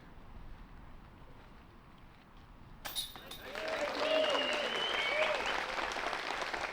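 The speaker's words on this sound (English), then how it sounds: "You can hear the crowd." Spectators applaud and cheer from behind the fences at an elite women's disc golf tournament in Europe after a short birdie putt. Outdoor wind noise gives way to a sudden, sustained burst of crowd applause with whistles and shouts.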